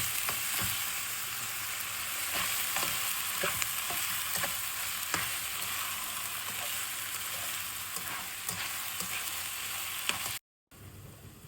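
Steady oil sizzle and frying with a spoon stirring in a pan of bhuna khichuri, ginger and garlic paste frying, constant crackle with soft scraping clicks, close and continuous, no voices, cut briefly near the end.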